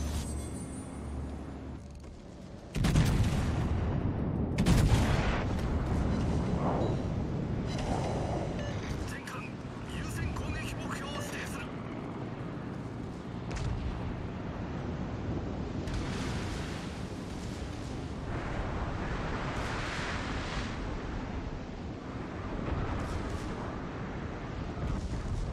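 Warship secondary guns firing during a World of Warships Legends naval battle, a dense run of booming shots over continuous sea and battle rumble, with a voice talking over it.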